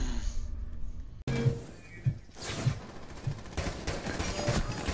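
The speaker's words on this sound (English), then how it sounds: "they're shooting me through the hole" Gunfire from the video game Rainbow Six Siege: a loud opening burst, then repeated sharp shots at roughly half-second intervals over a steady game background.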